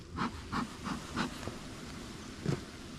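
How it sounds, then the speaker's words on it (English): A beekeeper's smoker works over an open hive during a spring queen check, giving about six short, breathy hissing puffs in a loose rhythm up close, each pause carrying a low background murmur. "That's the smoker."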